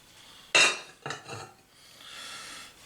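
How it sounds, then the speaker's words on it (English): A spoon stirs a pot of ham and white northern bean soup with carrots, onions and celery. One sharp clink is followed by a few soft scrapes and a brief swish, close by in a quiet room. "Give that a good stir."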